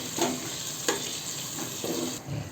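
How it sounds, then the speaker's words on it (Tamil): Ginger garlic paste with a handful of coriander and mint leaves sautéing in a pan for Ambur chicken biryani, a steady soft sizzle broken by a few short scraping stirs, with no talking. "ஒரு கைப்பிடி புதினா தழை போட்டுக்கலாம். போட்டுட்டு இதை நல்லா வதக்கி விடுங்க."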